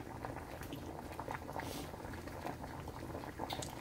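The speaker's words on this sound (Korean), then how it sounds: "잘 끓는다, 그치?" Eggs boil in a pot of water on the stove while being dyed a new colour: a continuous, close bubbling and popping that stays busy and even from start to finish.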